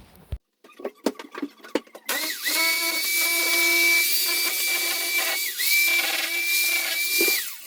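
An SDS drill cuts into plaster and the mesh beneath during a DIY kitchen job, starting with a few knocks and then a loud steady whine with pitch dips as the load shifts, close and sustained.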